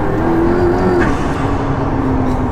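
A McLaren P1 sports car driven on the road, its engine note climbing in a strong, continuous roar from close by with a steady rising tone throughout.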